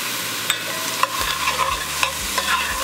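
Garlic cloves and chopped parsley sauté in a hot pan, a steady close sizzle broken by a few sharp scrapes and clicks of stirring.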